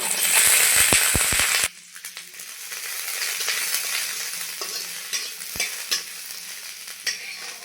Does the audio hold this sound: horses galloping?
no